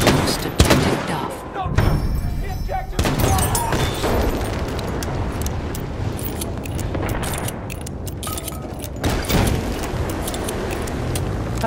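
Machine gun fire in the video game Battlefield 1, loud rapid bursts and scattered shots layered with explosions and battle noise throughout.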